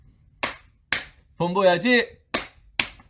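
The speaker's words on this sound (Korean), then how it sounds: "제가 박수 탁탁 치겠습니다" One person claps hands sharply and close, two crisp claps then a pause while he speaks a short phrase, then two more claps in the same even rhythm.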